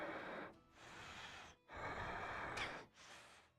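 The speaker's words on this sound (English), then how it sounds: "Why are they breathing in my ear?" Someone breathes heavily right against the microphone in a video-game livestream, three or four long, loud rasping breaths, each separated by a brief pause.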